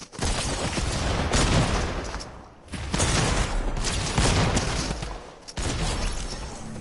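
Close-range Mammoth pistol shots in Fortnite, a burst of loud, rapid gunfire with short gaps and a sharp crack near the end, no talking.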